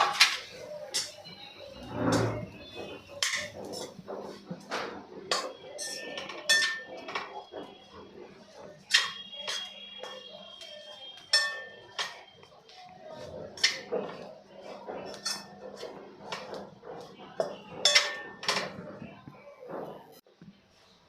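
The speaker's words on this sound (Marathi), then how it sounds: "आता त्याच तुपामध्ये आपण जी खारीक आणि खोबरं बारीक केलेलं ते आपण यामध्ये मंद गॅसवर 2 ते 3 मिनिटे आपल्याला परतून घ्यायचं आहे।" Dry dates and grated coconut stirred in ghee in a pan over low flame, with repeated close clinks and scrapes of a spoon against the metal pan in an irregular rhythm throughout.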